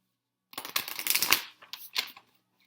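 A deck of Moonology Oracle cards riffled and shuffled nearby, a quick run of crisp fluttering card flicks followed by a shorter second burst, soft and with no talking.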